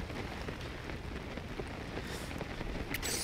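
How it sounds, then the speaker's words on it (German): Steady rainfall in the video game Zelda: Tears of the Kingdom, a dense, even patter with a brief brighter splash near the end, continuous and fairly soft with no talk. "Ich finde es auch mal schön, wie es teilweise regnet"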